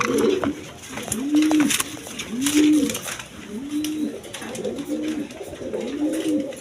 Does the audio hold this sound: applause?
no